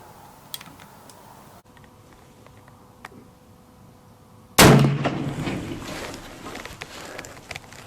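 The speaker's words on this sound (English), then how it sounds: "we'll go ahead and shoot a 3-shot group and just see how she groups up" A single sharp shot from a Wyoming Armory custom 1885 single-shot rifle bursts out loud and close after a quiet stretch, its report decaying over a few seconds.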